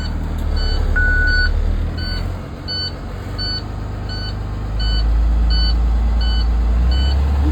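On a school bus during an air brake test, the low air pressure warning alarm beeps in a steady repeating pattern while the diesel engine idles and rumbles underneath, revving slightly toward the end.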